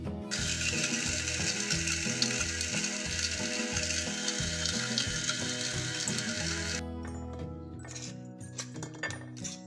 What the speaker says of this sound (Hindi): इनको हम मिक्सी में डालेंगे और पीस के पाउडर सा बनाते हैं।